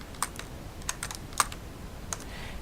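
Several sharp, separate keystrokes click on a computer keyboard, irregular and fairly close, among them a press of the Insert key, over a quiet room hum.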